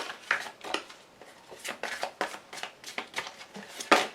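Tarot oracle cards are drawn and laid on a table, a string of soft papery slides and light taps, with a sharper snap as a card lands near the end; close and quiet.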